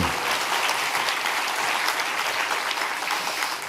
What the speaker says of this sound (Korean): 한번 박수해 주세요.